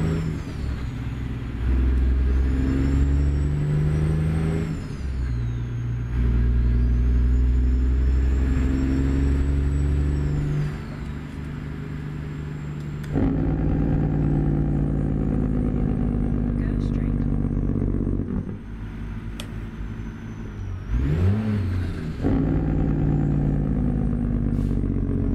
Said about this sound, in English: See how it's not going into gear and it's grinding?